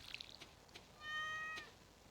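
A cat meows in the farming game Stardew Valley: one clear, drawn-out mew rises and fades, with a few soft game chimes before it.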